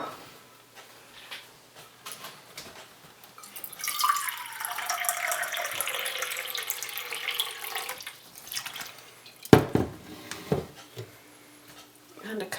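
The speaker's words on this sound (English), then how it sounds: "I'm going to replace it with a cup of water" A cup of water is poured into a sourdough starter of flour in the kitchen, a few seconds of splashing flow rising and fading amid quiet handling noises and a nearby voice.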